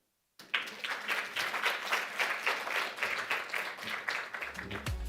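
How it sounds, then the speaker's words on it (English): Conference attendees at an International Women's Day event give Dr. Grace a sustained round of applause, steady dense clapping starting abruptly and continuing to the end. "Another round of applause for Dr. Grace as she makes it to her chair."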